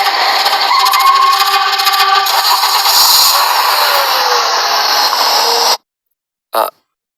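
A loud car engine whirs and drones steadily, then cuts out abruptly into silence, followed by one short sputtering burst that dies again as it fails to start.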